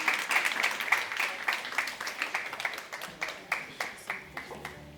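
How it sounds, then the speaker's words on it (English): Sparse applause from a panel-discussion audience honoring the panelists, separate claps rising and falling in an uneven rhythm, moderately close and thin rather than a full ovation. "give them a round of applause."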